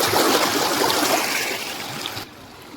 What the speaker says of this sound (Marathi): ओ, पाण्याचा आवाज.